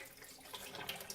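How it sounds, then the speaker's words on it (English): Rinse water is gently poured off a batch of microgreen seeds, a faint, close splashing trickle with a few small drips near the end, heard alone. "Gently pour it out."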